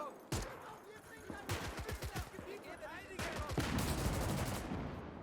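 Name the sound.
explosion and gunfire in Gates of Hell video game battle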